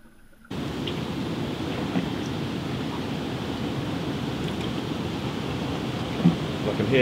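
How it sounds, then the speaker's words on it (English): Steady broadband rushing of running water fills the scene after a quiet start on the North Walsham and Dilham Canal, constant and fairly close, with no voices. "Running water ahead"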